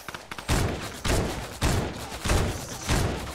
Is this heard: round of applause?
no